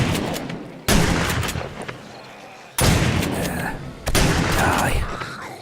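Shotgun blasts hit zombies in the game 7 Days to Die: three loud, close booms a second or two apart, each trailing into a rumbling wash of noise, with a few impact sounds in between.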